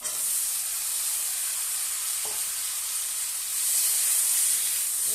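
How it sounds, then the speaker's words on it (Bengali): Tomato, eggplant and potato chunks fry in a wok with onions for a tangy puti fish curry, giving a loud, continuous hissing sizzle that holds steady with no talking. "ভালো করে এটাকে ভেজে নেব।"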